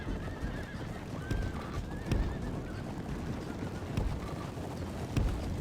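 Horses whinny a few times in short bursts over a constant low rumble of battle ambience in Third Age: Total War, with occasional thumps and no speech.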